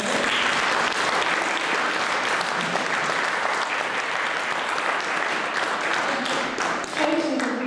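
Audience in a church or concert hall applauds steadily after the introduction at an organ concert, a dense, even wash of clapping that holds for the whole stretch, fairly loud and close, with a faint voice or two underneath near the end.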